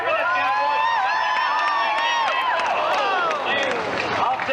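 A rodeo crowd in the Badlands in 1994 cheers and whoops for a cowboy, a loud sustained roar of voices and yells with scattered clapping.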